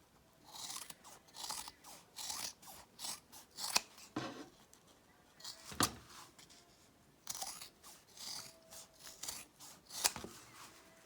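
Scissors snip through plaid quilting fabric to trim a corner, a series of crisp, close cuts in an uneven rhythm, with a few sharper metallic clacks as the blades close.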